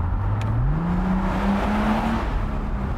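A car drives through a road tunnel on a Scotland-bound road trip, its engine droning steadily with a rising pitch as it accelerates, set against a constant enclosed road roar throughout.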